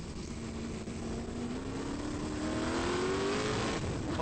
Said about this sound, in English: 1969 Lola T142. And we're going to take a lap of Pukekohe from the roll hoop.